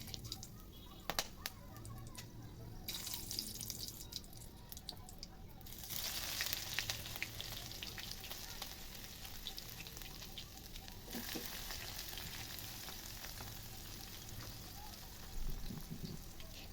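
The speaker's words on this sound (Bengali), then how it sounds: "এরপর এতে সামান্য পরিমাণে পেঁয়াজ, লং, দারচিনি এবং তেজপাতা দিয়ে ভালো করে নাড়তে হবে।" Onion, cloves, cinnamon and bay leaf frying in hot oil while being stirred, a soft continuous sizzle with occasional scraping and clinks, fairly quiet and close, no talking.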